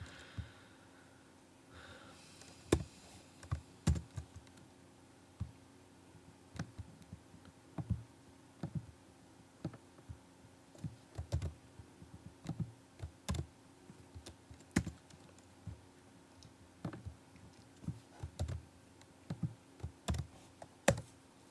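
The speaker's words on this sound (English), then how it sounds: "do some more typing" Soft, close keystrokes on a computer keyboard come in irregular bursts and single taps over a quiet room, with occasional faint breathing and no talking.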